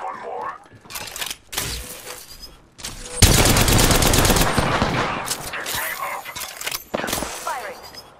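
Apex Legends gunfire in rapid bursts and sustained automatic fire, loud and close, with short pauses between volleys and a long continuous stretch of shooting.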